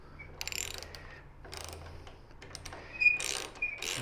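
A bolt being tightened into a T-nut with a ratchet wrench, bursts of rapid close clicking from the pawl in several strokes, with short pauses between them and no talk.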